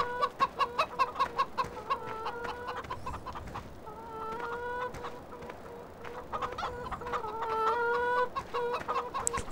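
Chickens from the Farming Simulator 2013 farm cluck in rapid, repeated bursts, pause briefly, then start again in clustered runs of calls, moderately quiet and with no voices over them.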